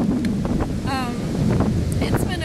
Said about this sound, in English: the spin of the hurricane is obviously affecting the water. It's so churning